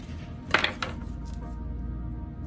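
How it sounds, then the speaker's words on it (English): A knife slicing through a green plantain on a cutting surface in a home kitchen, one or two short crisp cuts with a light tap, close and clear against a steady low background hum. "And here I'm going to just cut my plantain."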